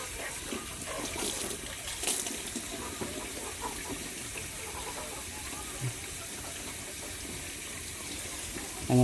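A tap runs steadily into a washbasin, splashing over a pot of freshly drained hot rice. The close, even gush of water continues throughout, with a few faint knocks.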